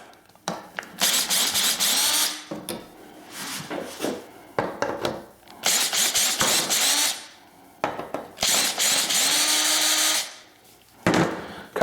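A power drill whirs in repeated bursts loosening screws, spinning up and stopping several times, with scraping and clicks between runs.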